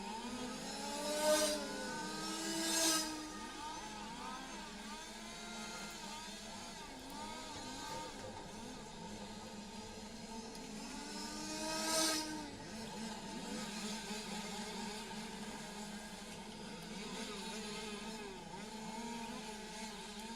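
Large-scale RC racing cars lap a track at a European championship qualifying session, their small engines buzzing and rising and falling in pitch as they pass, with a few louder close passes over a steady distant drone.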